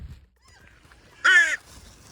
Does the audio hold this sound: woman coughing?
no